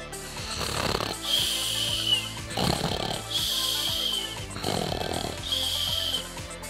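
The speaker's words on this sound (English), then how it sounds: "Just as I was falling asleep, Frank began snoring, loudly." Loud snoring repeating in a slow rhythm, three long rasping breaths with gaps between them, close and dominant with no talking.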